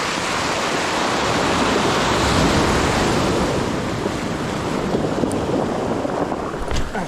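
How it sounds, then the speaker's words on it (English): Ocean swell rolls onto the shore at a coastal fishing spot in a loud, continuous wash of surf, with wind buffeting the microphone throughout. "there's a nice little rolling swell"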